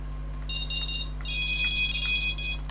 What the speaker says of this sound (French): Ça bip bien là.